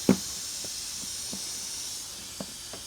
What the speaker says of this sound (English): my gun's leaking air